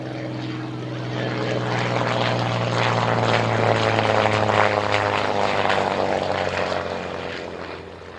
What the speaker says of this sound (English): This particular aircraft was originally a Canadian-built airframe, built at Canadian.